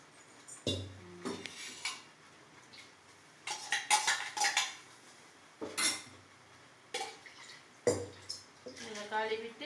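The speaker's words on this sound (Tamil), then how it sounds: "இதை கழுவி ஊற்றிடலாம்." A cooking vessel is rinsed with water: metal clanks and scrapes, with splashing and pouring in short bursts between quiet gaps. A voice speaks softly at times.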